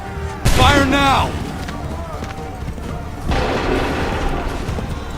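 Musket volley in Assassin's Creed III, a sudden loud crack of massed gunfire with a rolling boom that decays over about a second, followed by a second rumbling burst amid battlefield noise and shouted voices.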